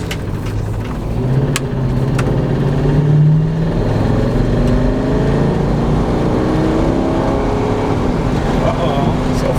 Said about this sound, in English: Still got our possible rod knock